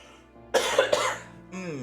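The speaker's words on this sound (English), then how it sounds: "And then I coughed and didn't mute." A person gives two quick, harsh coughs close to the microphone, with voiced sounds just before and after the bursts.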